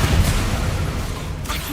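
Glacius ice spell cast in the Hogwarts Legacy video game: a dense, booming burst of magical effect sound, loud and sustained with a rumbling low end, followed by a brief brighter flourish near the end.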